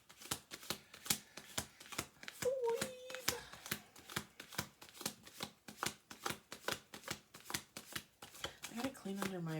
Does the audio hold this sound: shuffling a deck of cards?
yes